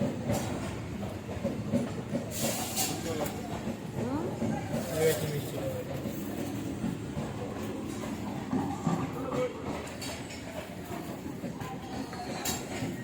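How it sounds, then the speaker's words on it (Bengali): A passing train rumbles and rattles at a moderate distance, a steady rolling clatter under people talking nearby. "এই দেখো সোনাই এই ট্রেন যাচ্ছে"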